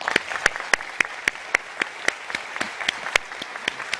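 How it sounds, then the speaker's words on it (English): Scattered applause at a corporate stockholders' meeting, a thin audience with a few distinct sharp claps standing out in an irregular rhythm over a soft wash of clapping, fairly quiet throughout. "I'd like to ask them all to please stand for a round of applause."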